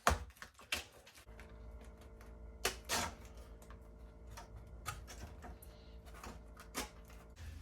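Dried fruit leather being torn into small pieces by hand, a series of sharp, close crackly rips and snaps at irregular intervals over a faint steady hum.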